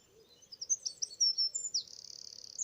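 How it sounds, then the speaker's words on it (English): Loud, rapid high warbling from a wren, climbing into a long, fast trill that carries on to the end, nearby and unaccompanied. "Got that long trill in the middle of it, help you recognise."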